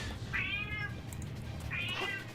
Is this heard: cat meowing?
yes